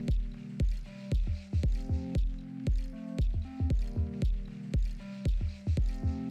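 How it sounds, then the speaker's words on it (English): Liquid black resin being poured into a routed hole in a surfboard, producing a rapid series of wet, squishy glugging drips in a fairly regular rhythm, close and alone. "The hole is filled with liquid black"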